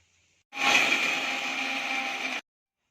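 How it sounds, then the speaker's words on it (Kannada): A mixer grinder whirs loudly and steadily for about two seconds, grinding peanuts, white sesame seeds, curry leaves and cumin into a paste for a bitter gourd fry, then stops abruptly into silence. "ಶೇಂಗಾ ಬೀಜ ಮತ್ತು ಬಿಳಿ ಎಳ್ಳು, ಸ್ವಲ್ಪ ಕರಿಬೇವು ಮತ್ತು ಜೀರಿಗೆ, ಇದನ್ನು ಪೇಸ್ಟ್ ಮಾಡ್ಕೊತಾ ಇದ್ದೀನಿ"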